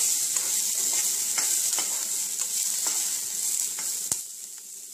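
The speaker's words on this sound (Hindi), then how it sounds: "तो अब ये थोड़ा सा फ्राई हो जाए ऑनियन" Onion fries gently in a little oil in a pot for a dal, giving a soft, even sizzle with faint stirring clicks and one sharper knock near the end.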